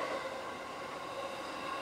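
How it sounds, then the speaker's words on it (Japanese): A local train pulls in along a station platform with a steady, continuous rumble of wheels on rails and a faint metallic ring. It is heard at a moderate distance with no voices. "しかし普通の列車は、年が明けても、その日常という秩序を乱さぬように、つるりとホームに入線してきました"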